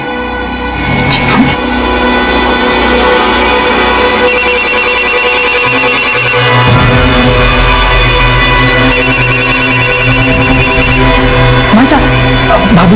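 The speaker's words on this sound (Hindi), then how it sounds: "भाभी का फोन बज रहा है" A mobile phone rings at home during a household puja gathering, its electronic ringtone sounding in two long repeated bursts over steady background noise, with voices and music underneath.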